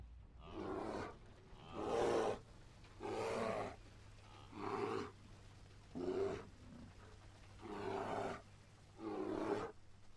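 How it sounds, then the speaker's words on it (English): Deep animal-like roars used as the voice of an IS-3 tank in a War Thunder parody, seven long roaring bursts separated by short pauses, loud and close over a low steady hum, with no talking. "The IS-3 lets off a series of loud roars and retreats to collect its bounty."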